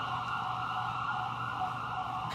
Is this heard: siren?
yes